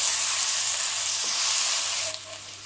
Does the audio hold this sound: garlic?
yes